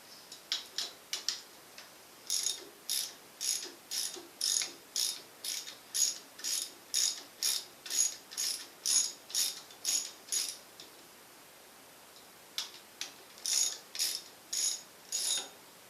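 Repeated ratchet clicking while bolts are tightened to mount an implement on a Gravely Model L tractor, quick bursts of ratcheting strokes in a steady rhythm, close and clear, with a short pause before a final run.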